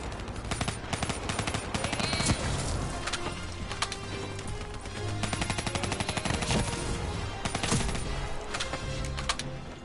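Dense, rapid automatic gunfire from Call of Duty Black Ops 3, sustained bursts of close, loud shots crackling almost without pause for about ten seconds with no talk.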